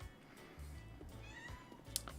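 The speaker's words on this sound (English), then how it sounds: "The cat wants to go out." A cat meowing to be let out, a few short plaintive meows at close range over a low background hum.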